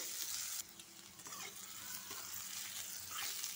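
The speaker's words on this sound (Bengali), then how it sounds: "এবার আমি পেঁয়াজগুলো দিয়ে হালকা করে ভেজে নেব।" Onions fry in a pan with cumin and spices, a soft continuous sizzle with stirring scrapes and clatter throughout, quiet and close.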